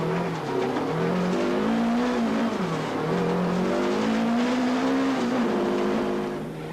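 Rally car engine revving hard and continuously as it slides through a very tight farmyard on handbrake turns, a loud close Mitsubishi-era rally stage sound with rising and falling revs and no talk.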